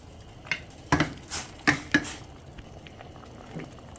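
Chunks of taro dropped one after another into a cooking pot holding onion and tomato, several distinct splashy thuds and clinks close by, with quiet sizzling and bubbling between.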